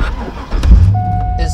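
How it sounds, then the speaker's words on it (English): A Chevrolet Corvette C5 engine cranks and catches in a brief low rumbling burst, close by, with someone talking around it and a thin steady tone following. "because you have to turn the car on."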